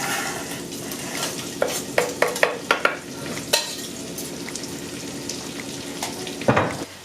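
Mince frying in a pan as onions go in, a constant sizzle broken by a run of sharp spoon scrapes and clinks against the pan, close up with no talk.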